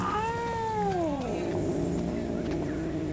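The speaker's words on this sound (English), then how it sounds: "I hear a cat." A cat meows in the horror video game DreadOut 2: one clear, close, drawn-out meow with a falling pitch over a steady, loud background of ambient game sound.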